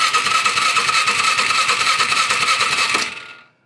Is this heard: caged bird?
no